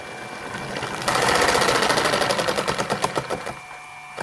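A three-phase permanent-magnet motor spins up on full mains power, its whine jumping in abruptly and loudly, then settling into a rapid mechanical rattling pulse that slows and fades toward the end, close and unaccompanied by talk.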